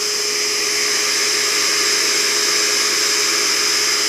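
A seaming tool's vacuum suction runs steadily and loudly, a constant broad whine and rushing hiss with a fixed tonal hum, unbroken and with no voices.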